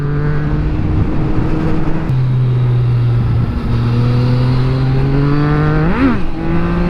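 A motorcycle engine whines steadily up through the revs with a sharp surge near the end, loud and close, with road and wind roar underneath and no talking.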